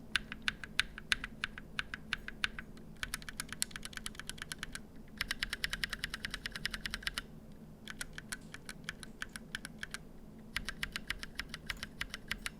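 Lubed Holy Panda tactile switches on a mechanical keyboard being typed on in quick bursts, a dense run of crisp, even clicks separated by short pauses, close and clear with no talking.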